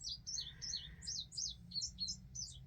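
A small bird chirps in quick, bright tweets, about ten short calls in a steady series over a faint low hum, with no voices.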